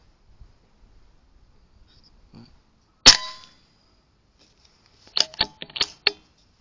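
.22 caliber PCP airgun pellet striking a thumbnail-sized miniature gong, about 1.5 cm across, at 56 m: one sharp metallic clang with a brief ring. A cluster of quieter clicks and taps follows, with no talking.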